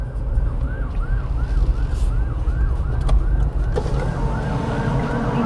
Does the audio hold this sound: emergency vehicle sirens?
yes